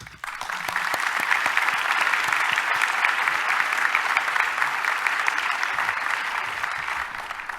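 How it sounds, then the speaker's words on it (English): Warm, sustained applause fills a luncheon hall as a society's president comes up for her address, dense and even after a quick start, carrying on steadily with no speech over it. "Please join me in a warm round of applause for our outstanding leader, Peggy Hellweg"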